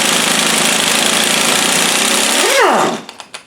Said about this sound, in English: This is why you need an impact gun